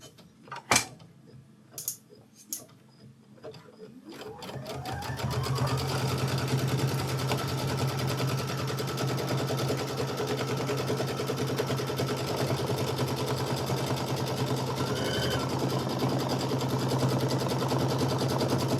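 Embroidery machine stitching a quilt placement line: a few clicks and beeps, then the motor winds up into a steady, rapid mechanical whir of needle strokes that runs evenly and close for the rest of the stretch.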